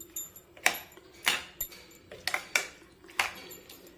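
Metal spoon scraping and clinking against a pot while sambar powder is mixed into home-cooked sambar, a series of sharp, close taps and scrapes coming every half second or so, with no talk.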